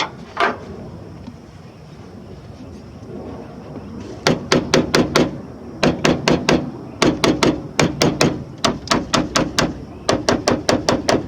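After a quiet stretch, a hammer taps metal in rapid rhythmic bursts of several strikes each, close and sharp, repeating with brief pauses.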